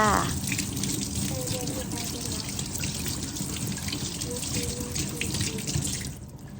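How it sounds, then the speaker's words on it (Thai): Mahachanok mango seeds being rinsed under a running kitchen tap, a steady close gush of water splashing over the seeds in a sink for several seconds before it eases off near the end. "แล้วก็เอามาเล็ดล้างจ้า เอาเม็ดมันล้างให้สะอาดจ้า"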